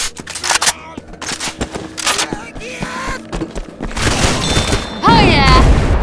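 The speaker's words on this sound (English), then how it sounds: "We need to shoot down that barricade!" Rapid gunfire from Left 4 Dead 2 as survivors shoot down a barricade during a Crash Course match, loud bursts mixed with game effects and chaotic noise, with voices calling out nearby.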